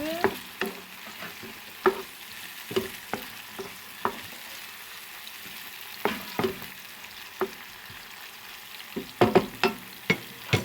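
Herbs stirred in a hot pan for a leek and cheese pie, giving a soft sizzle broken by intermittent scraping and tapping of a utensil against the pan, close, quiet and unhurried, with no talk.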